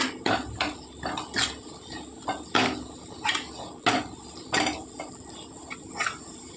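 Chana masala being stirred in a pan, with a series of distinct spoon scrapes and knocks against metal in an irregular rhythm, close and fairly quiet with no talking.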